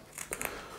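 Scissors snip through Parisisal straw or ribbon in a millinery trim, giving a few short, quiet crisp cuts close by with no talking.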